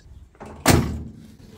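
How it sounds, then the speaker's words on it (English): A Nissan 240SX project car, freshly welded during restoration, has its door unlatched with a light click and then shut with a solid, close thud. Nothing else is heard around it. "The door opens and closes without issues."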